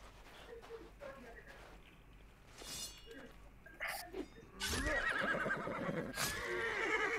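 In the medieval game Life is Feudal, a horse whinnies and neighs several times during combat, with clattering hooves, clinks and impacts, while someone speaks Spanish over the action.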